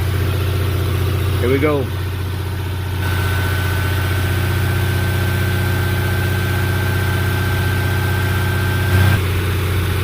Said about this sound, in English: I'm up to about 1900 RPM, close to 2000.